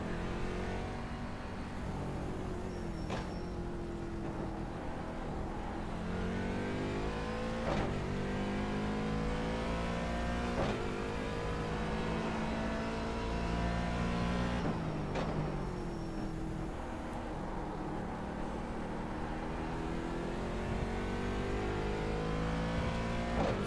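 A C7 race car engine runs a continuous lap while testing at Daytona for a 24-hour race. It drones loud and steady from up close, rising through the gears, with sharp shifts and dips about every few seconds.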